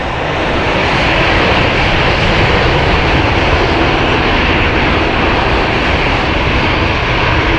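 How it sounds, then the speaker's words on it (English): A loud, steady roar of aircraft engines fills the air right beside Gatwick Airport, where runners wait outdoors for a half marathon. The roar is close, continuous and unbroken. "So it's a little bit noisy here. It's because we're right next to Gatwick Airport."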